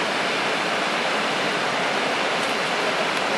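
The Salto de los Novios waterfall, between Chile and Argentina, roars steadily and loudly at close range, a dense unbroken rush of falling water with no other sounds.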